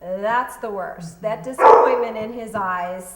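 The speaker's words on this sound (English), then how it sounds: "That's my dog." A pet dog barks and yips in a kitchen during a table talk, several sharp barks and whimpering cries in quick succession, close and loud, overlapping a woman's speech.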